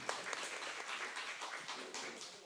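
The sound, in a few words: audience applause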